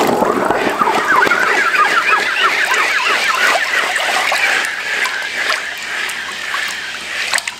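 Hot wrought iron hammer head quenched in water: bubbling, crackling splashes and trickling fizz, loud and busy at first, then gradually thinning out over several seconds, with no voices.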